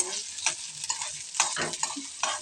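Onions for a shallot pickle being stirred and sautéed in a pan, with steady sizzling broken by repeated scraping stir strokes, close and moderately loud, no voices.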